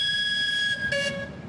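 A vintage train in Appenzell runs with a steady rumble under a sustained high-pitched tone that swells briefly, close and fairly loud, with no talk.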